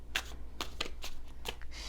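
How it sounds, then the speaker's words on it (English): Tarot cards riffled and shuffled in several quick bursts, close and fairly quiet with no talking. "Just going to shuffle and clear the energy here real quick."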